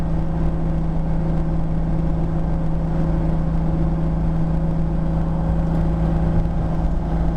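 A BMW E30 with an S54 engine cruises in sixth gear at about 70 mph and 3,200 RPM, giving a constant droning engine hum and road rumble inside the car, with no change in pitch.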